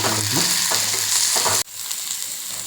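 Onion and curry leaves sautéing in a pan while dry fish is cooked, loud continuous sizzling with stirring scrapes that suddenly drops to a quieter sizzle partway through.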